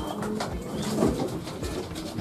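Pigeons coo softly inside a loft, low murmuring calls overlapping with faint rustling, fairly close and steady with no talk.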